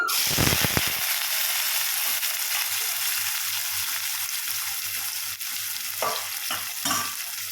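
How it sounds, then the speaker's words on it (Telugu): Loud, steady sizzle of onions and green chillies frying in hot oil, with a few stirring scrapes and bursts of crackle near the end; no voices. "నూనె వేడెక్కేసింది ఉల్లిగడ్డలు ఒక చిన్న చిన్నవి అనమాట ఒక నాలుగు కట్ చేశాను రెండు పచ్చిమిర్చి తాలింపులో వేసేస్తున్నాను"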